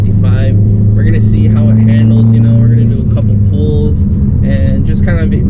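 A 2013 Mopar Dodge Dart drives onto the highway, its engine holding a loud steady hum that shifts pitch midway. A person talks over it throughout.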